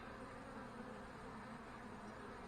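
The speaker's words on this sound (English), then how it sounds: "I just noticed that there was a bunch of bees" Honey bees crowd around a hive entrance in a colony about to supersede its queen, a steady, dense buzzing hum that stays constant throughout at a fairly low level.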